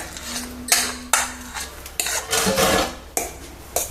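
Mashed banana being folded into whipped cream for a pudding, heard as a spoon scraping and knocking against a bowl in several separate strokes, close and clear, with no talking.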